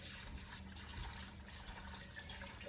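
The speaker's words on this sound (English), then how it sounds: "pour the part that has been pre-strained through your cloth" Homemade beef broth is poured through a cloth strainer into a large pot. A faint, steady, continuous rush of liquid runs throughout, with no voices.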